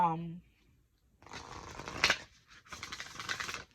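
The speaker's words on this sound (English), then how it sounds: "Let me shuffle again." A deck of cards is shuffled up close in a few quick riffling bursts with brief pauses between them, while a voice speaks faintly at the start.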